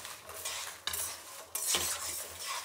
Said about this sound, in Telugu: ఇప్పుడు గుంటూరు మిరపకాయలు, కాశ్మీర్ మిరపకాయలు ఈ 2 వేసేస్తున్నాను